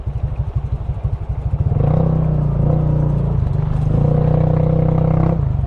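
A motorcycle engine strains while crossing a river in Aguilar, Pangasinan. It opens with a close, loud, pulsing chug, then rises into a sustained, labored revving drone, with no talk.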